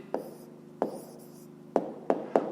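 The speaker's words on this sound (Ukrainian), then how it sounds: "записуємо тоді відповідь, пишемо відповідь" A pen taps and scratches on paper while an answer to a fifth-grade maths exercise is written down, making a few sharp, close strokes spaced irregularly over a couple of seconds.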